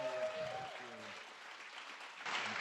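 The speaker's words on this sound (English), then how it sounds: "So can we give him a round of applause?" Audience applause for a band at a ceremony, a brief burst of clapping at moderate distance that swells again at the end, with a voice speaking over the start.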